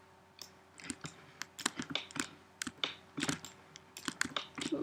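A computer mouse clicks rapidly and irregularly while vertices are merged in 3D modelling software. The crisp, close taps come in clusters, with short quiet gaps.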